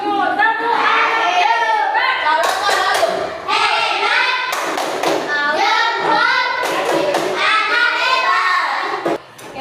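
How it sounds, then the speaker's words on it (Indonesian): Children in a school classroom clap along in patterned bursts of sharp hand claps while their voices chant loudly in unison, close and lively throughout. "Tepuk tangan."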